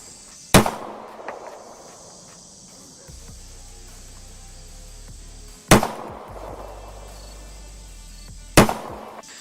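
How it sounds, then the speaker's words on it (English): Gunshots fired at a target while zeroing a red dot sight: three sharp, loud cracks spaced several seconds apart, each with a brief ringing decay, and near silence in between. "we'll go ahead and shoot some."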